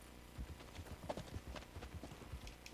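Horse hooves clip-clopping in Red Dead Redemption II, a steady walking rhythm of soft, even hoofbeats at moderate distance, with little else around them.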